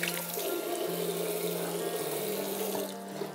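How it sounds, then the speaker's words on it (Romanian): Water splashing and pouring steadily as a 3-year-old boy washes his face from a bucket, a close, continuous wet rush with no voices. "Pe căldare se spală față."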